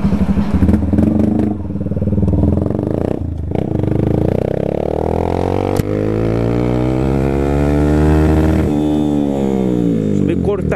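A Yamaha FZ25 250 motorcycle ridden on the road, its engine droning steadily with rising and falling revs throughout, loud and close, with a truck nearby.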